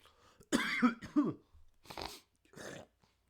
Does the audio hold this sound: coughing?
yes